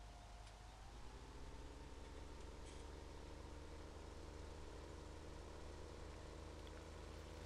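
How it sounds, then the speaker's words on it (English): A tractor engine in Farming Simulator 17 drones at a steady, even pitch throughout, close and continuous with a low rumbling hum and no voices. "Let's bring the tractor back home."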